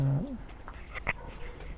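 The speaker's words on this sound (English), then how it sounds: "there's the two birds" Two baby birds kept as family pets give soft cooing calls, a low drawn-out coo at the start followed by a few faint, brief chirps in a quiet room with background hiss.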